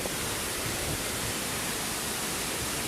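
Strong rushing water at Bunyaban waterfall in Ranong, Thailand, a dense, steady roar of falling water that fills the space evenly and continuously without pause.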